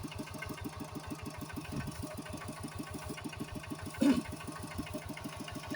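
A farm machine engine at work during the rice harvest, running with a steady low rhythmic chug, fairly quiet and even, with a brief louder bump midway.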